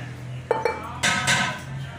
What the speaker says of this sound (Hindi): हम इस अमाम दस्ते में ही कूटते हैं